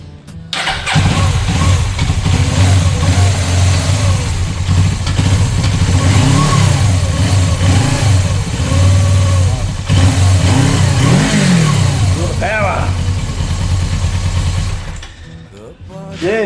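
Suzuki GS500E motorcycle engine cranking and catching, then running loud and close with repeated throttle blips rising and falling before cutting off near the end.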